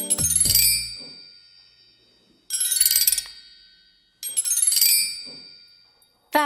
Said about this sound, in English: This is a handheld bell tree.